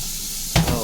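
Onions hit hot oil with a pinch of salt for a village chicken curry, bursting into a sudden loud sizzle partway through after a quiet hiss.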